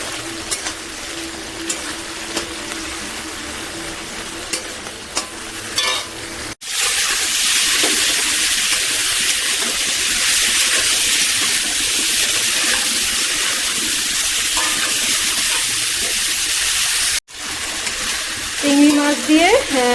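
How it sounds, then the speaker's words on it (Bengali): Prawns frying in oil in a pan, a loud, close, steady sizzle that starts abruptly and hisses continuously for about ten seconds, with quieter kitchen clatter before and after. "চিংড়ি মাছটা প্রথমে ভেজে নেব, ভেজে নিয়ে আলুটা ফুলকপিটা ভাজবো আর কি।"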